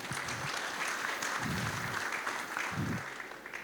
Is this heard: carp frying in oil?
no